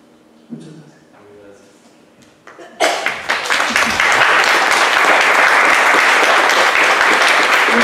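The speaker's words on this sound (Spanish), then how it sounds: "Ya se me adelantaron con el aplauso" An audience at a community cinema and cultural management panel breaks into applause after quiet murmuring and a few scattered claps, swelling quickly into loud, sustained clapping from the whole room.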